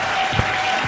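A church congregation claps in applause during a sermon, a dense burst of hand claps filling the short moment at close, even loudness.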